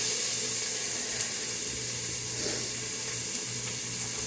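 Cubed butternut squash dropped into hot oil in a soup pot, giving a steady broadband sizzle and hiss that holds evenly throughout at moderate level, with no talking.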